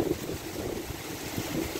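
High wind blows over open Gulf water, gusting and buffeting the microphone in a rough, steady roar with low surges like waves beneath it.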